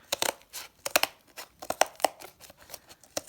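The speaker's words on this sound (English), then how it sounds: "you can just cut away any excess substrate with ordinary kitchen scissors" Ordinary kitchen scissors snip through two-layer fibreglass mesh mosaic substrate in quick, crisp cuts, a rapid irregular series of close clicks and rustles with no talking.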